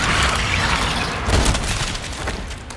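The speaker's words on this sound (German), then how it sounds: "Ob ich jetzt mal einen Schuss ansetze hier?" A loud, booming gunshot from the video game Resident Evil 4 Separate Ways, with a dense burst of blast and echoing mechanical noise filling the short moment.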